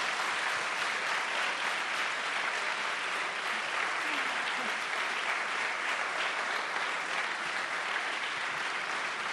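An audience at a live talk show applauds continuously, a dense, even wash of clapping heard up close that holds steady from start to finish.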